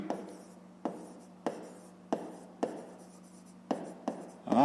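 Pen strokes on paper while a math solution for a fifth-grade exercise is written out, a run of distinct scratchy taps and short strokes at an even pace, close and fairly quiet, with no voices.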